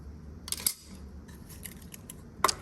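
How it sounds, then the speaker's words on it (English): Wire cutters snip solder wire while a textured half-moon pendant is being made, giving two or three crisp metallic clicks against a quiet background. "let me just snip that"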